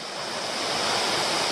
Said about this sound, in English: one of my favourite waterfalls in Tasmania